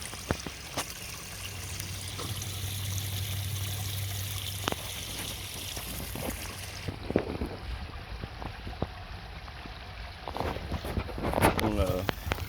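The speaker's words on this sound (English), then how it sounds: "Got my smaller waterfall going here now." A small homemade waterfall trickles steadily into a backyard bait pond, a continuous close, soft splashing wash that runs throughout with occasional louder splashes and knocks near the end.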